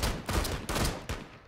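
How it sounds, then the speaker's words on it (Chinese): Gunfire from the tactical shooter game Rainbow Six Siege: three or four sharp, loud shots spaced unevenly, each bursting out and decaying quickly, with no talking. "你是不是开了四枪？"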